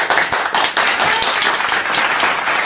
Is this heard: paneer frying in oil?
no